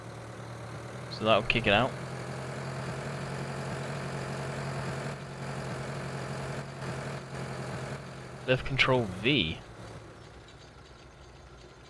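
A tractor engine idles at a low, steady hum throughout in Farming Simulator 2013, fairly quiet and constant, while someone speaks briefly at the start and again near the end.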